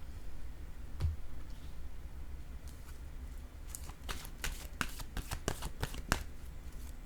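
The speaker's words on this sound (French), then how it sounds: "Je vais piger une autre carte." A deck of cards riffles and is shuffled at close range, quiet at first with a single tap, then a rapid run of crisp flicks and snaps as a card is drawn.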